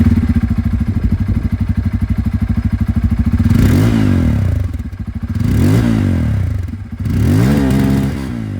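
A Bajaj Pulsar N250 motorcycle with a dual-barrel exhaust idles with a rapid, throbbing exhaust beat, then revs up sharply three times, each surge rising and falling back, loud and close.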